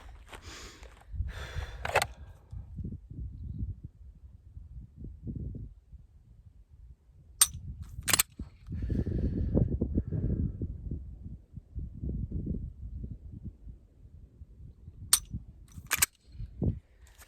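Pistol shots fired in rounds during a recalibration shooting exercise: a few sharp, loud cracks stand out in separate bursts, with a pair near the middle and another pair near the end, amid low rumbling handling noise and no speech.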